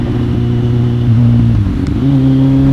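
A Kawasaki Z800 motorcycle ridden slowly in low gear on a wet, slippery road in the rain, the engine note rising and falling through short throttle changes with a loud, close exhaust drone.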